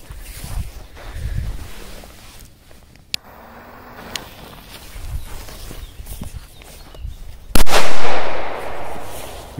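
A single loud ball firecracker bang cracks out near the end, preceded by scattered footsteps, faint pops and outdoor shuffling.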